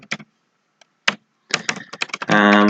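Keystrokes on a computer keyboard while notes are entered into will-editing software: a few isolated clicks, then a quicker run of close, crisp taps, ending in a brief sustained tone.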